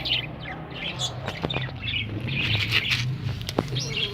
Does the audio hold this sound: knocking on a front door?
no